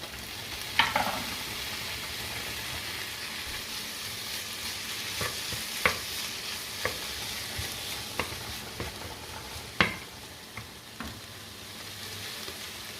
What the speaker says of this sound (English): Add our tomatoes in there.